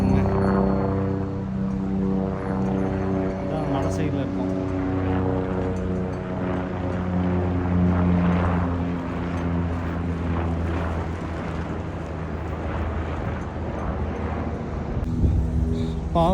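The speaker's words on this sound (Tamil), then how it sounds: "கேதார்நாத்துக்கு போகிறோம், ஹெலிகாப்டர் பார்க்க போகிறோம்" Helicopter flying over the mountains at Kedarnath, its steady engine and rotor drone holding continuously at moderate distance with faint voices in the background.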